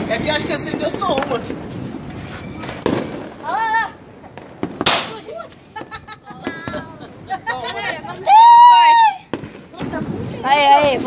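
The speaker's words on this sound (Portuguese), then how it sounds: "vamos usar o corte para jogar as bombinhas menores" Small firecrackers pop sharply and sporadically during a New Year celebration, scattered among lively chatter, shouts and a child's excited cries close by.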